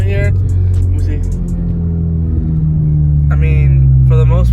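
A car gives off a strange, unsafe-sounding noise while driving, a loud, steady low rumble with a droning tonal hum. Voices break in now and then.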